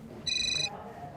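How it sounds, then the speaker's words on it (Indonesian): A phone rings with an incoming call in an indoor scene, a short electronic ringtone of stacked steady high tones lasting about half a second over quiet room tone and faint background voices. "Ada telepon nih dari bos aku."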